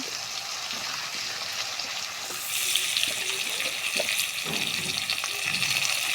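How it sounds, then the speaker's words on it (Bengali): Sliced sweet pumpkin frying in oil gives a soft sizzle that swells louder midway, with light clinks and stirring noises close by and no talk. "এই যে দেখুন মিষ্টি কুমড়া সুন্দর করে আমরা কাটে নিচ্ছি, এই যে দিয়ে দেওয়া হলো।"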